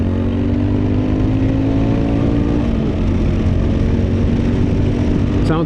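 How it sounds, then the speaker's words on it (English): A Honda Monkey motorcycle fitted with a Takegawa exhaust runs close by, a loud, continuous throaty engine note with a slight pitch swell mid-way, heard alone. "because I have that little Takagawa exhaust on there, and it's got a little bit, you know, a little bit of snooty snort"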